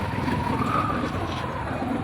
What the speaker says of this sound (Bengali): জ্যামের মধ্যে আস্তে আস্তে গাড়ি পার হচ্ছে